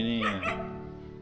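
A dog on a campervan trip in Maumere, Flores barks once or twice up close and loud, then lets out a drawn-out whining yelp that fades.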